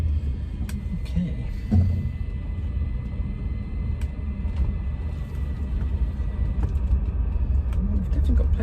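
Bentley Turbo R with a 6.75-litre turbocharged V8 driving down narrow Yorkshire country lanes, a low steady engine rumble and road noise heard from inside the cabin, with someone talking over it.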